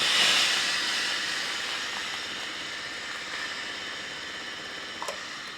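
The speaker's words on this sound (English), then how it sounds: "press the steam button and move the iron from top to bottom. This is the vertical steaming." Steady, close steam hiss from a Tefal Express Essential SV6110 steam ironing station iron used for vertical steaming, loudest at the start and then holding level for several seconds, with a faint click near the end.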